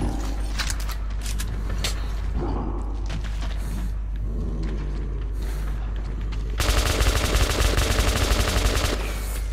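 Weapons fire in the video game Metro 2033 Redux: bursts of rapid automatic gunfire with heavy low-end thumps, then a louder, denser sustained volley near the end, close and dominant without speech.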